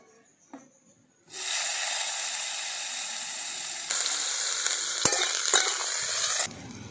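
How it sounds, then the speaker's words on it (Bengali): Brinjal pieces dropped into hot oil in a kadai for a greens and eggplant dish, a sudden loud, dense sizzle that bursts in after a quiet start, swells further midway with a few sharp clinks of stirring, then cuts away. "দিয়ে দিচ্ছি কড়ার মধ্যে বেগুনগুলো।"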